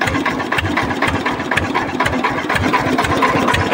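A rustic village jugaad vehicle's engine runs steadily close by, a loud, continuous rough chugging with rapid mechanical knocking pulses throughout, no talking over it.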